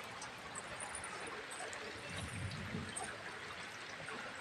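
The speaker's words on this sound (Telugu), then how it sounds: "చాలా అంటే చాలా వర్షం పడుతుంది." Heavy rain pours down outside a house, a dense, steady hiss of water with trickling and splashing runoff, continuous and moderately close throughout.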